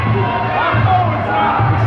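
A crowd at a live no-boundary fight event cheers in a loud, continuous roar of many voices.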